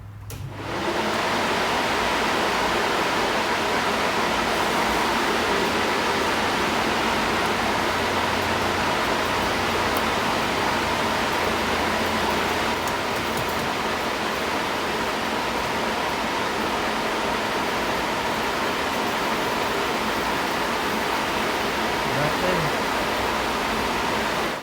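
Fluid rushes steadily through a nitrous jet into a jug during a flow test, a loud, continuous hiss that holds nearly unchanged for the whole stretch.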